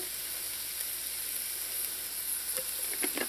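Rice toasting in a pan with seasoning and Bertie's pimento pepper sauce for Mexican chicken and rice gives a steady close sizzle, with a few light stirring scrapes and crackles near the end.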